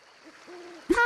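A cartoon owl in the Sago Mini Forest kids' game gives soft, low hoots before a sudden louder, brighter burst of sound at the end.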